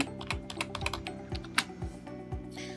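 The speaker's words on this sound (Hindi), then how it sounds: "आप टाइप करेंगे HRMS ओडिशा HRMS ओडिशा।" Typing on a computer keyboard, a quick run of distinct key clicks in an uneven rhythm, close and clear, with no talking.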